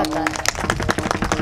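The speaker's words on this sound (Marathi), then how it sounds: "टाळ्या वाजवा की एकदा." An audience clapping at a devotional gathering, a run of distinct claps in a fairly quick, uneven rhythm, close and fairly loud, with some crowd murmur underneath.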